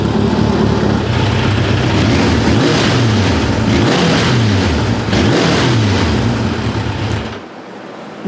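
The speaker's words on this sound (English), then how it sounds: "Yes, it sounds like a bike again. A good running bike for that matter." A Kawasaki GPZ900R engine revs loudly and close after its carburetors are synced, rising and falling through several throttle blips before cutting off near the end.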